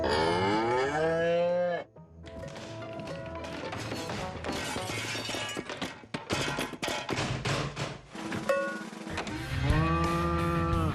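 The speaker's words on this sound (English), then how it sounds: "Hello, Mrs. Cow." Cow mooing in long, loud, drawn-out calls, with a second moo rising near the end and a few thumps and rustles between them close by.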